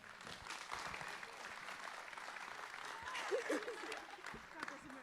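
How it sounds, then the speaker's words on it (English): A crowd at a high school softball state championship celebration claps for the team, a sustained, moderately distant patter of applause with faint voices mixed in. "just big round of applause to all of you"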